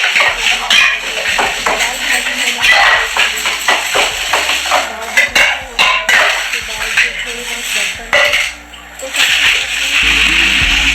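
Leafy greens washed by hand in a large bucket of drinking water: repeated splashing and sloshing, mixed with clinks of metal pots and utensils, close and busy, with a voice talking over it at times.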